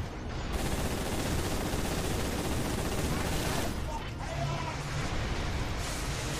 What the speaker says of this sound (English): Stop shooting, man!